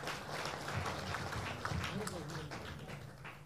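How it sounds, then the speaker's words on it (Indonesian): Audience clapping at the announcement of the Prabowo-Gibran national campaign team, a steady dense patter filling the room throughout, with voices talking over it. "Bapak Nusron Wahid, kita beri tepuk tangan."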